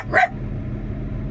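A dog on a farm near a tractor gives a single short, sharp bark, close and clear, followed by quiet background hum.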